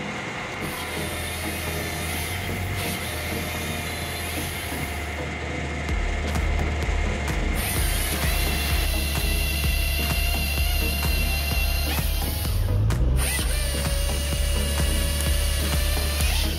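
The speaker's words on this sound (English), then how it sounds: "Halverson firewood processors make the job easier." A Halverson firewood processor cuts and splits firewood, a loud continuous mechanical grind and clatter with a high whine, rhythmic knocking and shifting hydraulic tones that swell partway through.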